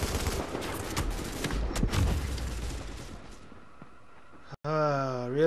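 Rapid gunfire in The Division video game, with dense overlapping bursts of shots for several seconds that fade into quieter scattered reports before a synthetic tone rises at the end.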